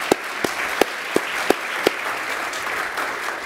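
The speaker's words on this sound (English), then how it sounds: "I would like to give him a very big hand of applause for doing the artifact evaluation for NDSS" A conference audience at the NDSS 2024 opening remarks applauds, heard as a light spread of clapping from a moderate-sized crowd with a few sharp, louder claps standing out at a regular pace.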